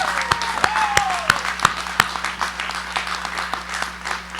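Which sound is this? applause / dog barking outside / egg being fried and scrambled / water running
applause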